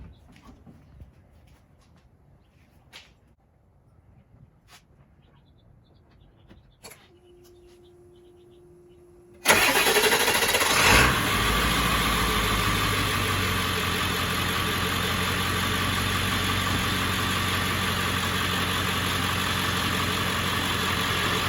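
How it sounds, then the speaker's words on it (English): An adventure van engine running on an Odyssey Extreme battery cranks briefly after a quiet stretch with a few faint clicks and bird calls, then fires and settles into a steady, loud idle nearby. "We're gonna fire it up so that you can hear the speed at which it cranks over"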